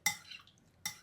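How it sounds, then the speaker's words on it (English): A spoon stirring a honey morning drink in a cup, with two bright clinks against the sides about a second apart and a soft swirl between them, close and fairly quiet. "don't forget to mix a bit."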